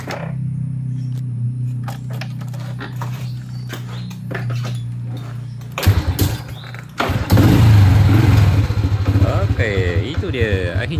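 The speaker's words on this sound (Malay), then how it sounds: "Okey, kita cuba nak hidupkan motosikal ni." A Honda EX5 motorcycle engine, just fitted with a new spark plug, idles with a low thudding rhythm, then cranks and roars to life, revving loudly while a person talks.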